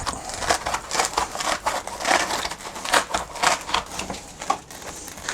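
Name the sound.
peeling foam out of a Milwaukee Packout insert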